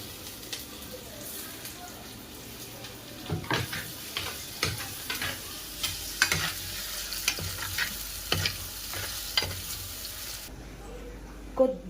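Tomatoes are stirred into onions and fresh curry leaves frying in a pan for an egg curry: a soft, continuous sizzle broken by repeated scraping spoon strokes, close by.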